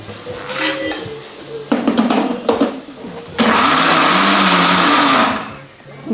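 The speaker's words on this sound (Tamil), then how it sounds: "வடைக்கு பருப்பை வந்து மிக்சியில் போட்டு நல்லா மாவாக ஆட்டி எடுத்துப்போம்." Mixer grinder grinding lentils into vada batter: a few short whirring pulses, then one long, loud, steady grinding run that winds down to quiet, all close up.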